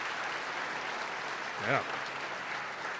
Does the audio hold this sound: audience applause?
yes